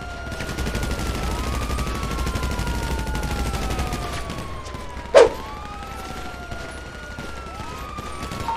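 A single sharp gunshot cracks out in the game GTA V, set against wailing police sirens that rise and fall throughout a steady background rumble.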